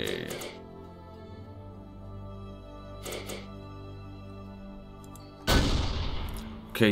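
Sharp synthetic gunshot blasts in the video game Habitat, isolated bursts separated by pauses with a ringing tonal backdrop, the last burst loud and close.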